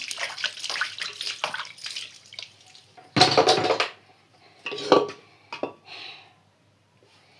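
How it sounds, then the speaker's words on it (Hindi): Dishes, pots and cutlery being washed in water by hand, with clattering bursts, splashing and sloshing in uneven spurts, fairly close, pausing briefly between rounds and trailing off near the end. "बर्तन मेरा धुल गया"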